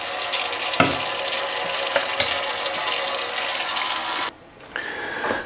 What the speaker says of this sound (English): fill it up with water and soap, and just kind of let it soak for a while